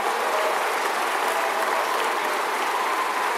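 Sustained, dense applause from a large crowd at a West Virginia State University commencement ceremony, steady and loud throughout with no pauses.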